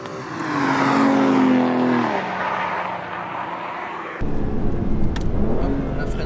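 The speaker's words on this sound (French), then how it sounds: "vous avez toutes les vocalises du V12 qui résonnent contre les murs et la végétation environnante" An Aston Martin DBS V12 heard from inside with the window down, its engine rising in pitch then dropping sharply as it shifts, continuing with a rough, rumbling tone.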